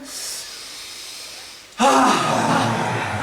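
A sharp, breathy intake of air, a single deep inhale that starts suddenly and continues loudly with a hissing, airy quality.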